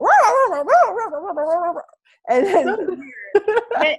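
A person voices yappy, whiny puppy barks in a rising and falling string, with a brief pause before more imitated yips mixed with laughing talk.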